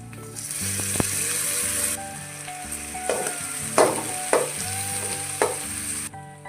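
Tomatoes fry in a pan with onion and ginger garlic paste, a steady loud sizzle with scraping stirs and a few clanks of a spoon, close up and without talk.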